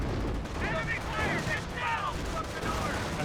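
Small-arms gunfire from German Grenadiers in a Company of Heroes 1 battle, a steady crackle of shots with short bursts under a constant wash of battle noise, no clear voices.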